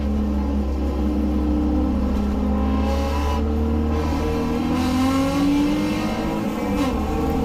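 A BMW E30 and an EK Honda Civic launch into the second race at Atlantic Motorsports Park, their engines droning loud and close, with pitch climbing steadily through the gears under a constant rumble.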